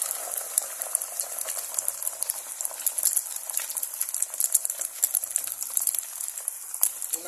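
Beaten egg poured into hot oil in a pan, frying with a dense, steady crackling sizzle and scattered pops throughout, close and alone.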